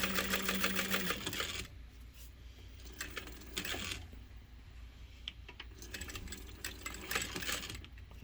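A flatbed sewing machine stitching a bag gives steady mechanical whirring in close, fairly loud bursts that stop and start, with quieter handling gaps between runs.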